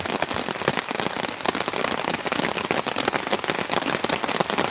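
Dense, steady heavy rain drumming on a taut tent overhead, a constant loud patter with sharper individual drops popping through.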